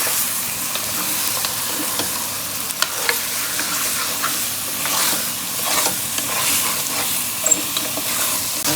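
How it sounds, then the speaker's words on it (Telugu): Mutton pieces sizzle and fry in masala in a pot at home while being stirred, a steady loud crackle with scraping stirs throughout, no voices. "మసాలాలో మంచిగా ఏగుతుంది కదా."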